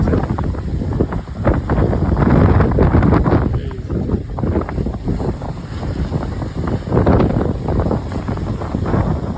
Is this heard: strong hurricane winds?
yes